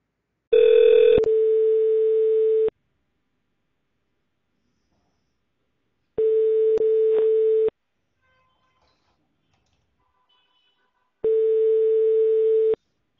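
A telephone ringback tone sounds while a call is placed to a customer, three separate bursts of a flat electronic tone, each about one and a half to two seconds long, separated by silence.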